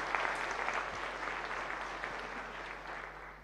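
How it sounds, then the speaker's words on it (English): A short round of applause from an audience at a talk, steady dense clapping for a few seconds at moderate loudness without fading much. "Give a short round of applause."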